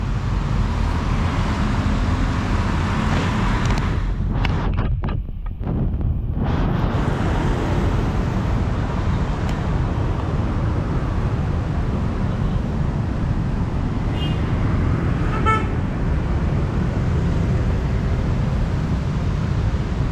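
Traffic rolls through central Jakarta in a continuous broadband roar with wind buffeting the microphone, holding steady and loud throughout with a brief dip partway and faint passing tones later, with no talking.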